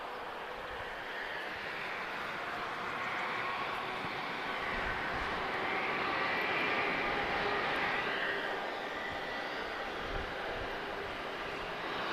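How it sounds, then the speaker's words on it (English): A TAP Air Portugal Airbus A320 arriving at Lisbon Airport gives a steady, broad jet roar heard at a distance, swelling slightly midway and then easing. "first arrival of today, guys, A320 from TAP Air Portugal"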